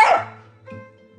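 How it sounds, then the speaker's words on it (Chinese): A large village mutt lets out one sharp, loud bark up close, followed by a softer, lower whine-like tail. "那黑妞说土狗啊，大土狗，村里面的大土狗"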